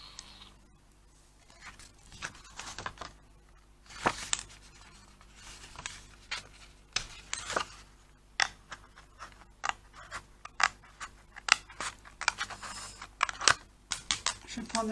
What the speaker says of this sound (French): il faut percer et ouvrir,